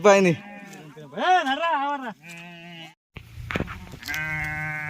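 Sheep bleat loudly and close by on a rainy day, a run of several wavering, drawn-out cries with a brief pause before more calls follow.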